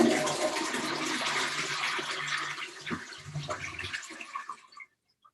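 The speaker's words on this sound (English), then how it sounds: "And flush." A toilet flushes with a loud rushing gush of water that swirls and gurgles for several seconds and then stops abruptly, heard close with no one talking.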